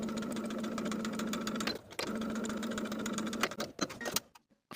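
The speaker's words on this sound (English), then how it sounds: "And then I'll edge stitch close to the open edge." Close, steady whir of a sewing machine edge stitching single-fold bias tape folded in half into a button loop for a summer top, running continuously for about four seconds before slowing and stopping.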